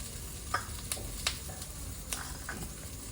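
Boiled potatoes hit hot oil in a pan, giving a steady close sizzle broken by a few sharp clicks and scrapes of stirring.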